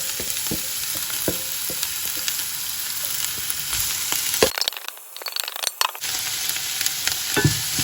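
Onions fry in extra virgin olive oil in a pan, making a loud, dense sizzle with stirring scrapes and clicks; the sizzle briefly drops away midway, then returns just as strongly.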